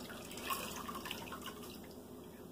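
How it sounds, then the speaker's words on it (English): Water running and splashing to rinse cleaned tile grout, a steady wash of dripping and trickling close by with no speech. "Let's rinse it off."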